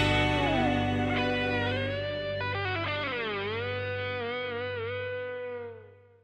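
Short distorted electric guitar jingle marking the start of a guitar podcast segment, with sustained overdriven chords and bending lead notes over a steady low drone, fading out at the end.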